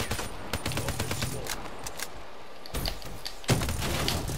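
Rapid automatic gunfire rattles through a Man-O-War multiplayer video game match, bursts of sharp cracking shots that pause briefly and then resume loudly, with a voice speaking over the action.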